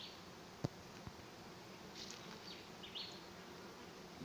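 A honey bee swarm moves into a bucket swarm trap, heard as a faint, steady distant buzzing hum with a couple of soft clicks.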